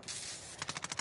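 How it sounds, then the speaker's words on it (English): Rapid automatic gunfire in the shooter Call of Duty: Modern Warfare II, a short, faint burst of evenly spaced shots following a brief noisy hiss, with no voices. "I heard his gun."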